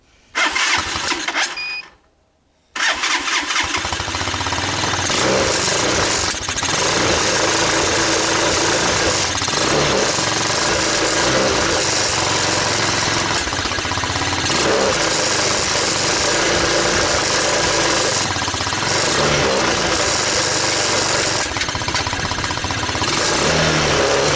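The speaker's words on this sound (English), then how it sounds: "We'll start it with the clutch in." A Tao Tao ATA200D ATV engine cranks briefly, cuts to a short pause, then catches and settles into a steady, loud idle that runs close by with slight rises in revs and no talk.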